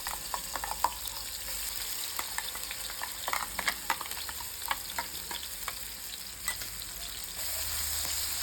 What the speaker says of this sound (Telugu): ఫ్రైంగ్ ప్యాన్లో తగినంత నూనె వేయాలి కరివేపాకు పచ్చిమిరపకాయలు వేయాలి ఉల్లికారం వేయాలి